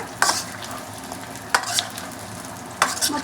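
Washed chicken pieces frying in a kadai, with a low continuous sizzle under three distinct bursts of spatula scraping and clattering, close by and without speech.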